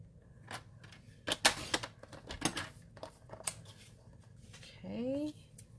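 Scissors snip through cardstock in a few quick, sharp cuts for a handmade zig-zag fold card, close by with light rustling, followed by a soft voice.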